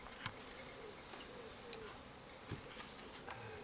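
Honeybees buzz faintly around an opened backyard hive, a low steady hum with a few louder passes as individual bees fly close.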